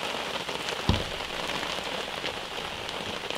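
Steady rain patters on a surface at Mikisew Provincial Park, Ontario, soft and even, with one dull thump partway through.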